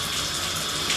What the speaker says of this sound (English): We're going to go locate that while the line drains off.